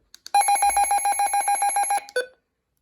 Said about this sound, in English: I have an older version that has a slower siren